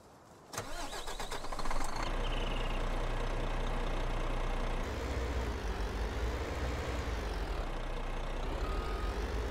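A Kamaz 65228 truck with a 535-horsepower engine, in a truck mod for a driving game, cranks and starts after a brief whir, then settles into a steady, loud diesel idle with a slight shift in tone midway; no talking.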